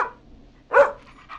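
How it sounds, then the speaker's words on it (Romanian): A dog gives a single sharp bark, close and fairly loud, followed by a fainter short yip, with quiet gaps around them. "Îi latră câinele."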